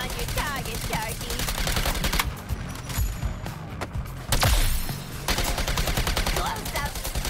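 Rapid gunfire from the action game Suicide Squad Kill the Justice League, repeated sharp shots in fast bursts with brief gaps, loud and close, mixed with game effects.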